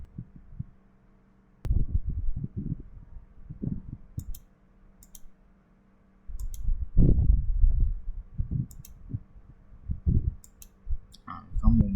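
A computer mouse gives a handful of sharp, scattered clicks spaced a second or two apart, heard faintly over muffled low thumps and indistinct voice.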